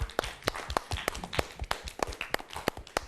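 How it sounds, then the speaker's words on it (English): Sparse, uneven hand claps from a small classroom audience for a teacher after a lecture, individual sharp claps spaced irregularly, fairly close and modest in volume. "A warm round of applause for the teacher"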